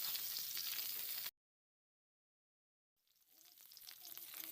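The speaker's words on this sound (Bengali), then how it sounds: "এখন ফুলকপিটা একটু সময় ভেজে নেব" Cauliflower pieces frying in hot oil in a kadai for a vegetarian Bengali dish, a bright steady sizzle that cuts off abruptly, then returns after a pause and gradually builds back up.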